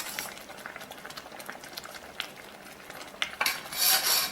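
Drumstick leaf and coconut milk kootu boils in a pan, a soft, close bubbling with faint utensil clinks, rising to a brighter, louder hiss near the end, with no talking.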